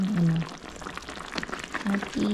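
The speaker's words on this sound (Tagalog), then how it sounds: "Kumukulo na siya." A pot of water bubbles and seethes in a dense, steady roil, with a voice speaking briefly over it.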